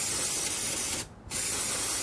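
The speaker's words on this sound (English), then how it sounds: "I'm gonna spray these pulleys with a little bit of brake clean." Brake cleaner hisses from an aerosol can onto BMW engine pulleys in two bursts separated by a brief pause, close up and with no one talking.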